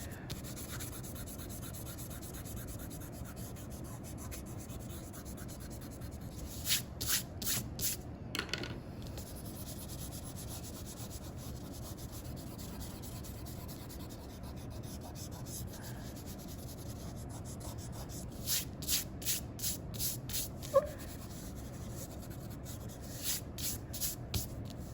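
An eraser rubs out pencil lines on paper in a quiet room, with bursts of brisk back-and-forth scrubbing strokes separated by stretches of near silence.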